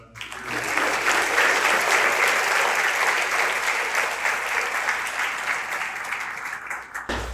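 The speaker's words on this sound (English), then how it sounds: "just a round of applause for Tim and all the things he's done" Audience applause at a school achievement awards ceremony, rising quickly into loud, sustained clapping from a full room before cutting off near the end.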